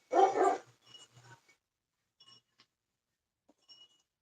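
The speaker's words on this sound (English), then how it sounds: "my dog will hear me talking. He's got a freaking bark every time he hears my voice" A dog gives one loud close bark followed by a few softer yips and whimpers, then scattered faint sounds in near silence.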